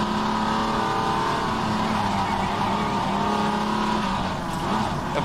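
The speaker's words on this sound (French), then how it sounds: "tu enroules en glissade" A race car in rFactor 2, running an Aussie Legends mod, slides through a corner with its engine droning loud and steady and a faint tyre squeal riding along.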